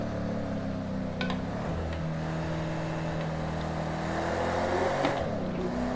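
A naturally aspirated Ford Mustang engine runs steadily with a deep, rumbling idle, its tone shifting slightly as revs rise and fall, close and continuous with no talk.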